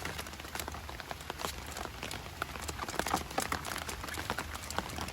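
Steady rain falls on a canal during cold, wet weather while fishing, giving a continuous close hiss with scattered drop patter and no talking.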